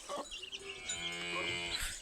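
A buffalo on a farm field lets out a single drawn-out moo, close and clear, filling the short stretch with its low throaty call.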